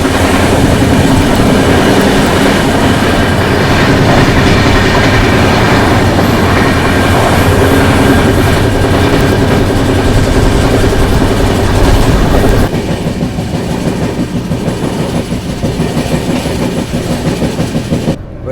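An Erode–Jolarpettai passenger express passes through a station in Tamil Nadu at speed, heard from on board as a loud, continuous roar of wheels and rattling carriages with clickety-clack, easing slightly toward the end.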